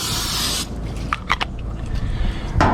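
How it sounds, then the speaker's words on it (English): A short hissing burst of cooking oil spray onto a cast iron surface before smash burgers, followed by faint clicks and small handling knocks nearby. "Let me just give a little spray of some cooking oil"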